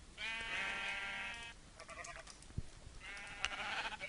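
Two bleats from a sheep in a modded Minecraft world with IC2, RedPower2, BuildCraft and Railcraft, clear harmonic calls at the start and end with quieter blocky game sounds between.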